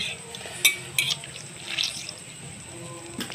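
Leftover tomato pulp is squeezed by hand over a pot of pepper-tomato rasam, giving a few brief, light trickles and drips close by over a soft background hiss.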